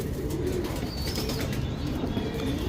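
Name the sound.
pigeons cooing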